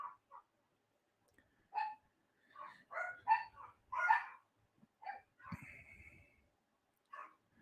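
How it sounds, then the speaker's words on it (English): A few dogs bark in short, scattered yips and woofs, fairly close but not loud, with a quiet whimpering stretch midway and gaps of silence between outbursts. "there goes my dogs"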